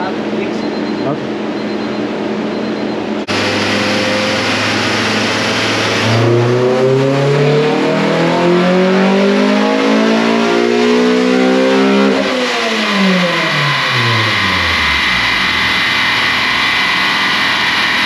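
Car engine revved repeatedly, loud and close, climbing in pitch in long sweeps, dropping back and rising again, with a steady hum underneath throughout.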